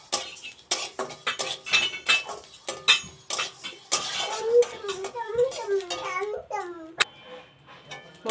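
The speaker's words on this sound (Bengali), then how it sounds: "একটু নেড়ে চেড়ে ভেজে নেব।" Cloves and cardamom fry in a pan while a utensil stirs and clinks against the metal in quick, irregular taps. A voice babbles over the stirring partway through.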